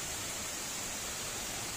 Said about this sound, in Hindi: ऊपर से पानी बह रहा है